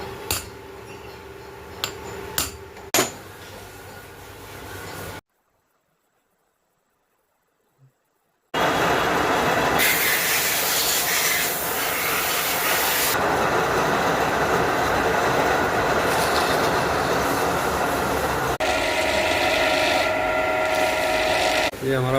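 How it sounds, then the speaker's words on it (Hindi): A lathe cuts a steel pipe used for a small Indian-made cannon, giving a loud, steady grinding rasp that begins after a pause of silence and runs continuously without talk. "अब इसको हम लेट पर काट देंगे।"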